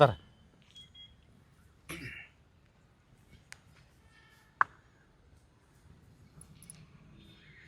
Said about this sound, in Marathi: मोबाईल द्या मी करते फोन